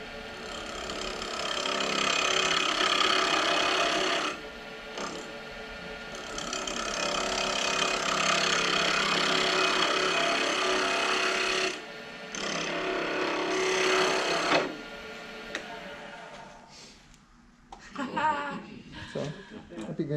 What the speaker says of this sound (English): I'm going to go some spindle gouge and put more curve